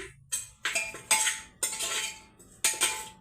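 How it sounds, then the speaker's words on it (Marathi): A utensil stirs mutton curry in a metal pot, making a series of sharp scraping clinks in irregular bursts, close and fairly loud, with no talking. "आता हे पण हलव ना, एवढं आवाज करते"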